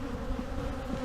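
Honeybees fan at the entrance of a hive, a dense, steady buzzing hum heard close up with no talk.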